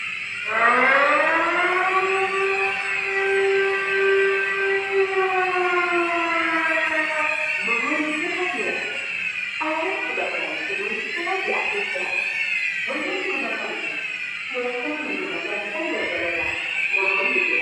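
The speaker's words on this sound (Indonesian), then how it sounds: "Pengetesan alarm di area" A fire alarm wails during a general test in a factory production area, ground floor zone 3. A rising siren sweep settles into a held tone, then gives way to a rapidly pulsing, chopped pattern that repeats at moderate volume.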